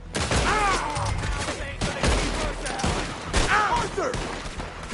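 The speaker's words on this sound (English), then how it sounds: "We're overrun! Just keep shooting!" A dense video-game shootout on PS4, with rapid volleys of gunfire crackling continuously and loudly, and shouting voices mixed in among the shots.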